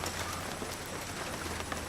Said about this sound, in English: Bloody hell, the rain is coming.